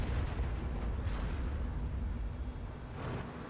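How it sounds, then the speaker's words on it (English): Tank cannon fire in World of Tanks, with rumbling booming shots and a sharper blast about a third of the way in, set against a constant low engine rumble, fairly quiet overall. "When I get around the corner here, we start shooting at the ridge campers."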